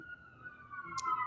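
A wailing emergency siren heard faintly at a distance, its tone sliding steadily downward through the short clip, with faint background noise and no speech.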